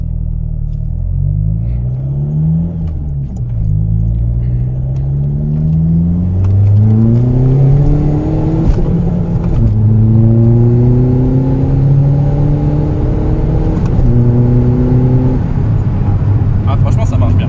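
Seat Ibiza 6L with a stage 3 tuned engine heard from inside the cabin, a steady low rumble rising and falling through repeated revving climbs as the car accelerates through gears, under continuous talk.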